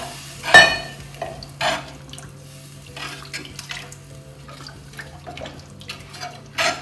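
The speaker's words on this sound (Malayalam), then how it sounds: "ഇതിന് അരപ്പിന് ആവശ്യമുള്ള വെള്ളം ഒഴിച്ചു കൊടുക്കാം" Water splashes into fish curry masala in a cooking pot in short uneven bursts, with a few soft clinks between pours against a quiet kitchen hum.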